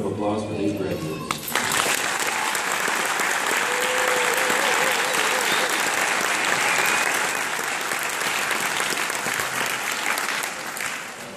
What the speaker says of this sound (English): Please join me in a round of applause for these graduates.